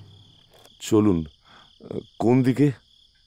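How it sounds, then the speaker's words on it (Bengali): Crickets at night keep up a continuous high, even trill throughout, running steadily beneath short bursts of spoken dialogue. "এক টানা ঝিঝি ডাকছে"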